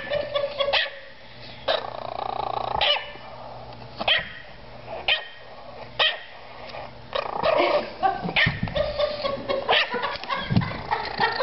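A chihuahua guarding a bone barks and growls up close, sharp repeated yaps broken by low snarls, loud and insistent throughout.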